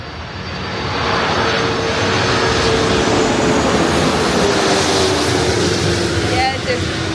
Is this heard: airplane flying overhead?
yes